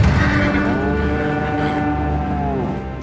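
On the Mongolian plateau, cattle give a long, deep moo up close, a drawn-out lowing call that holds steady for about three seconds before fading, with no voices.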